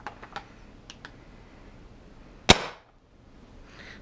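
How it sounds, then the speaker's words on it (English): A high-power Empire BT Dfender airsoft gun fires one loud, sharp semi-auto shot through a chronograph, preceded by a few light mechanical clicks and followed by a faint rattle. "Okay, the gun is going to fire, you see? Semi-auto mode,"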